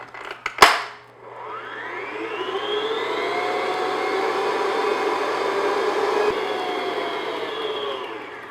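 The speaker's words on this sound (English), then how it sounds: "So now I'm going to beat this on medium-high speed for a couple minutes." Electric mixer beating pumpkin cranberry cake batter at medium-high speed, starting after a few clicks and settling into a steady, sustained whir.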